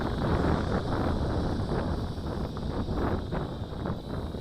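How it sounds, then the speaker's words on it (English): Strong wind gusting outdoors during an FPV camera drone flight test, a loud, steady rushing buffet across the microphone with uneven surges throughout. "We got quite a bit of wind here today"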